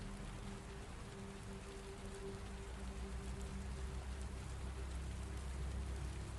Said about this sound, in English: Rain falls on it still